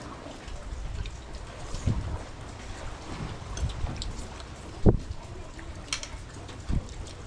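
Storm rain falls steadily as a dense, hissing wash, with a few louder thumps and knocks standing out from the constant patter, heard fairly close with no talk.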